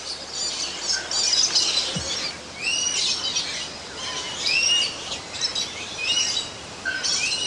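Birds flying free inside a large aviary chirp and whistle in repeated bright phrases, several calls overlapping at moderate distance over a quiet background.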